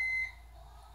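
A kitchen stove or oven gives one short, clear electronic beep, then falls to a low, quiet hum.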